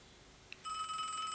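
Telephone ringing indoors: after a faint tap, a bright, electronic ring starts abruptly and holds steadily, fairly quiet and close, with no voices.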